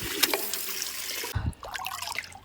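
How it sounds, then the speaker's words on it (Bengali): Water runs and trickles steadily into a container being filled for watering garden plants, a continuous splashing flow that briefly thuds and then settles into a quieter dribble. "এদিকে জল ভরতে দিলাম গাছে জল দেবো"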